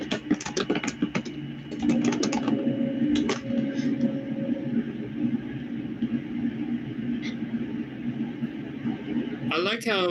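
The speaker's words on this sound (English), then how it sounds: "My keyboard is loud and my microphone is sensitive. You know when I'm typing." Typing on a loud computer keyboard picked up by a sensitive microphone, heard as quick clustered clacks of keystrokes in bursts near the start, mixed with people talking and a steady background hum.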